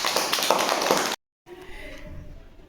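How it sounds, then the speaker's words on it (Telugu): Children clapping in a classroom: a brief burst of quick, dense hand claps, then a short silence, and the room picks up again with murmuring voices. "మాధవి క్లాప్స్ కొట్టండి"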